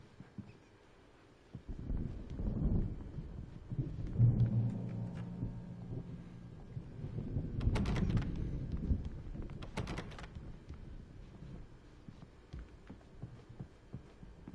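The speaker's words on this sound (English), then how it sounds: "Oh, what a storm." Thunderstorm in Alan Wake Remastered: deep rolling thunder rumbles swell and fade across the stretch, with a couple of sharper crackling peaks near the middle over a low steady hum.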